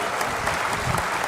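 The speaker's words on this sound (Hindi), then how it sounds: "गजेंद्र जी के जोरदार ताली बजा के हम स्वागत करत हन।" An audience at a Yadav community gathering in Chhattisgarh claps loudly to welcome Gajendra, giving a dense, continuous burst of applause from many hands throughout.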